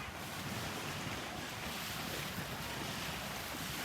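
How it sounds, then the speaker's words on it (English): Steady ocean surf washing onto the beach at Manchester State Park in Port Orchard, Washington, a continuous low rushing roar mixed with wind noise on the microphone, no voices. "I can hear the waves."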